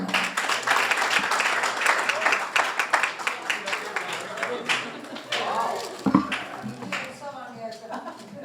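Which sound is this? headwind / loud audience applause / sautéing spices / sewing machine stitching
loud audience applause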